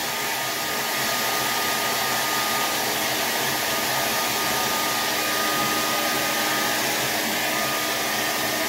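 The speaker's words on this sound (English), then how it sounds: "Let's use the hair dryer" A hair dryer blows continuously at close range, a loud steady whooshing hum that doesn't change for the whole stretch.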